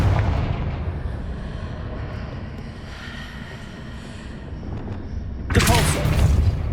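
A Confringo fire-blast spell goes off in the Hogwarts Legacy video game. A loud, bright explosive burst hits near the end over a steady, rumbling game ambience.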